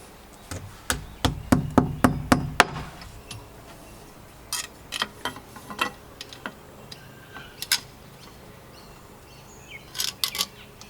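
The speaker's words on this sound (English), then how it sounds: "we'll just tap that plug into the wall" A hammer taps a wall plug into a drilled hole in brick with a quick run of sharp, close knocks. Sparser, fainter taps follow, with a few light ticks near the end.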